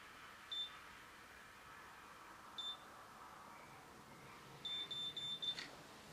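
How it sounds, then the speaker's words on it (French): A few short, high electronic beeps from a BaByliss Secret Curl hair curler: one, then another, then a cluster of several quick beeps near the end, over a faint steady hiss. "Et j'attends les 5 bips."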